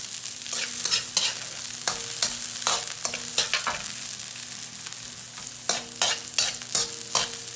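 Garlic and onion sautéing in a frying pan for Filipino binagoongan, with repeated utensil scrapes and stirs over a steady sizzle, close and fairly loud throughout.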